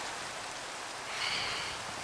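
Steady rain falling, a soft even hiss of drops that swells a little near the middle, with no one speaking.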